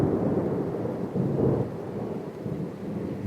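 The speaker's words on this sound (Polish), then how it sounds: "ein Gewitter" Thunder rumbles low and heavy through a rainy thunderstorm, a continuous rolling growl with a slight swell midway and steady rain hiss beneath, with no voices.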